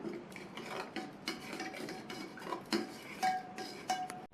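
A spoon stirs and scrapes in a vessel as salt and pepper are mixed into banana stem juice. There are repeated soft rasping strokes and light clinks, close but quiet.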